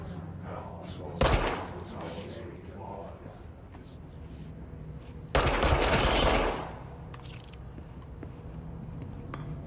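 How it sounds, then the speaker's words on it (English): Gunfire from the action game Control arrives in two sharp bursts, a brief loud shot near one second and a longer volley around five to six seconds, under a player's steady commentary. "I'm going to shoot this guy who's floating."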